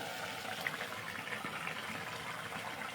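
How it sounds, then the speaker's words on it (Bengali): A pan of chhana curry bubbles at a gentle boil, a soft, even simmering hiss with faint popping, low in level and steady throughout. "ফুটছে, আর একটু ফুটবে।"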